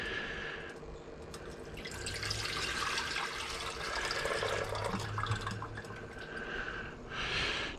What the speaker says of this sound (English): So I've got to put some distilled water in there, give it a rinse.